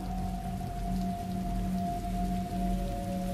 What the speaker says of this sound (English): it sounds like it's starting to rain